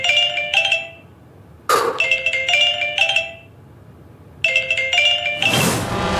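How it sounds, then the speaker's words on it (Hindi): Phone ringing for an incoming call, with bright repeating electronic chime bursts in several rings separated by pauses and a few crashing, clinking noises between them, loud and close. "नालायक अब मुझे फोन आ रहा है"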